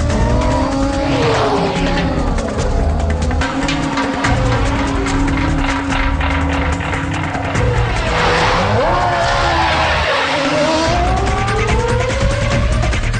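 A Mahindra Scorpio racing downhill into the final turn at Buddh International Circuit, braking hard from high speed: loud, close engine roar that shifts in pitch with tire squeal and skidding, continuous and unbroken.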